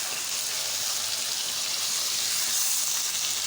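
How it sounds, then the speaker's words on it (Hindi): Chicken pieces frying in a pan with ginger and garlic over a high flame, a steady broad sizzle with no pauses, close and fairly loud throughout, with no voices. "अब हम चिकन को भी अच्छे से फ्राई करेंगे 1 मिनट तक।"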